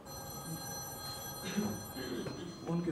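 A telephone rings indoors in a repeated bell-like pattern, moderately loud, with a steady hum and some background voices beneath it.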